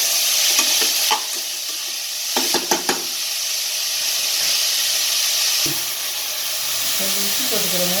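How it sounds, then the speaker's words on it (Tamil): Tomatoes sauté with browned onions in a pan for vada curry, a loud continuous sizzle broken by a few sharp spatula scrapes and clanks, with a brief voice-like tone near the end. "தக்காளி போடுறேன். தக்காளியும் கொஞ்சம் வதக்கணும்."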